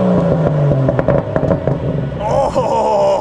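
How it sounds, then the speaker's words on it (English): A BMW F87 M2 with a catless downpipe revs hard and loud, sharp crackles and pops ringing out between throttle blips, with a higher whining tone rising near the end. "Corey, hop, rev this shit up."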